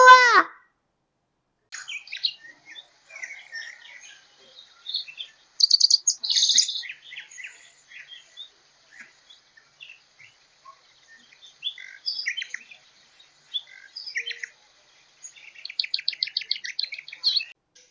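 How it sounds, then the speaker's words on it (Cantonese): Birds chirping in scattered bursts across a quiet background: short tweets and trills, some rapid and repeated, one louder call at the start. "鳥在叫"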